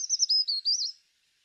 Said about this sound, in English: our last bird, the black and white warbler